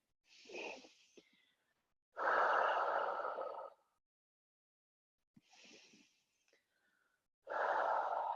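Slow, deep breaths during a gentle beginner yoga flow: two long, soft exhales alternate with quieter inhales and pauses, close and unhurried, with no talking.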